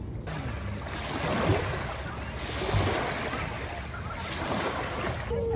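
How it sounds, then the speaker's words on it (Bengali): A boat crossing open water at a riverside spot in Rajshahi at night, with steady broadband water and engine-like rush, gentle swells of loudness and some wind buffeting the microphone. "এখন যাই নৌকাতে উঠে ওই পাশে যাই"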